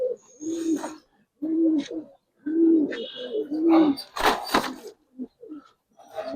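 Giribaz pigeons, including silver coloured birds, coo in repeated low throaty phrases close by, broken by a burst of rustling or fluttering noise partway through.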